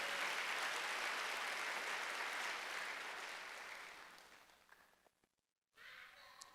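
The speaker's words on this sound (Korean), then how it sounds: "박수." A church congregation at a Wednesday worship service breaks into loud, dense applause that gradually fades out, followed by a brief silence and faint room sounds.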